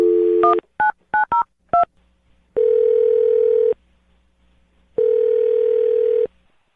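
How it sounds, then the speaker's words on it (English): Touch-tone keypad tones dial a phone number in a quick run of short beeps, followed by two long, steady ringback tones with quiet pauses between them. The tones are loud and close, with no talking. "I'm going to dial his phone number right now"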